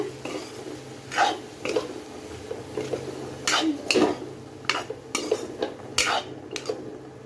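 Boiled peanut sundal being mixed in a pan: a spoon scrapes and clinks against the metal in quick irregular bursts, close and fairly loud, with no talk.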